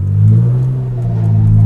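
Mitsubishi FTO car engine rumbling with a light rev, a steady low drone that swells slightly, close and loud with no talking.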